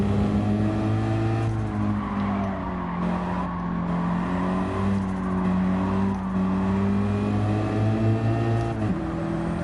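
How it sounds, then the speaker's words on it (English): A race car engine in the video game Gran Turismo 7 drones steadily with rising and falling pitch through gear changes of a 5-speed gearbox, turbo whooshes and whistles layered over the constant roar. "car makes some pretty cool turbo noises."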